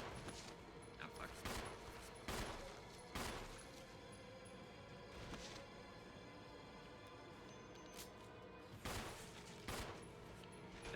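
Gunfire in the Resident Evil game, heard as several sharp, loud shots at irregular intervals over a busy background of game noise.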